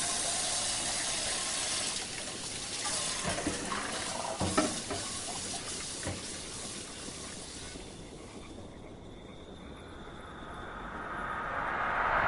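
Water runs steadily from a tap while things are washed, a broad continuous rush with a few clinks and splashes midway, easing slightly before swelling again near the end.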